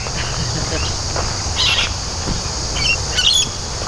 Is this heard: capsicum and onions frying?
no